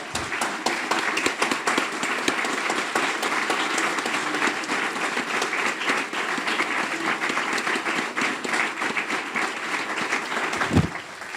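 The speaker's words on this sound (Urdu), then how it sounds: "میں چاہتا ہوں کہ ہم پوری جان کے ساتھ ایک بار روح القدس کے لیے تالیاں بجائیں گے." A church congregation claps together during a worship service, producing dense, loud, continuous applause that holds steady for about eleven seconds, with a brief thump near the end.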